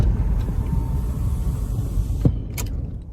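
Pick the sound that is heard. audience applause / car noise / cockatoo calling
car noise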